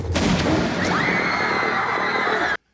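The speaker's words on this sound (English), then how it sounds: "He fires off a gunshot, causing a panic." A single sharp gunshot cracks out amid a crowd at a gathering, followed by a swell of panicked noise and a rising shout over dense background clamor, then abrupt silence.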